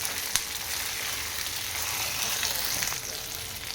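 Curry leaves and capsicum sizzle and fry in a pan with ginger-garlic paste, a steady, close crackling hiss that fills the whole stretch with a few sharper pops.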